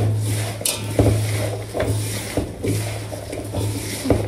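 Salted meat is stirred in a metal pot, making repeated scraping, clinking strokes in a loose rhythm over a low steady hum, close and moderately loud.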